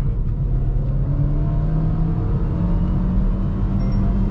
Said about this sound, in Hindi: एक बार इसका मैं एक्सेलरेशन देखता हूँ कि हर एक गियर में कितना चढ़ रही है